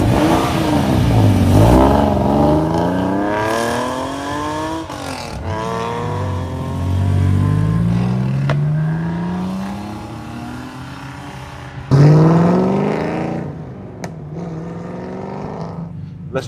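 Front-engined TVR sports car with a big engine revving hard and accelerating through repeated gear changes, its loud rising and falling roar close by and continuous throughout, with no talking.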